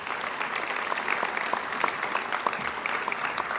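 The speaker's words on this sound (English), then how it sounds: "Do you want to give them a round of applause?" A graduation audience claps for the graduands, a steady, moderately loud burst of many hands with individual claps standing out, no voices over it.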